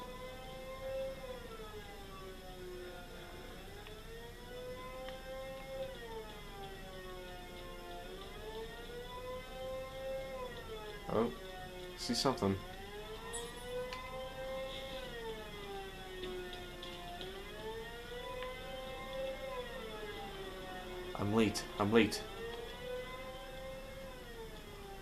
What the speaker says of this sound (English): I can hear the siren.